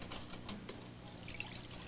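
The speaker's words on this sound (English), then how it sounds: "That's what I saved this water for right here to rinse this out." Water is poured into a cooking pot to rinse out leftover roux, a soft, close, continuous splashing trickle at low volume with no talk.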